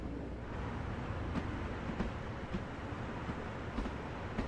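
An M7 commuter train on the Long Island Rail Road in Train Sim World 4 rolls alongside, giving off a steady, dense rumble with faint rail clatter and no voices.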